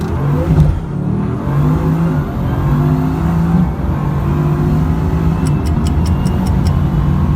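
Bugatti Veyron on launch control, its engine holding a steady, loud, droning rev with rising harmonic tones, plus a rapid run of sharp ticks near the end.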